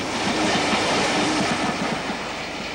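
1960s British steam locomotive 73029 hauling a mixed rake of coaches toward London, a loud steady rush of rolling wheels and rhythmic clatter passing close by.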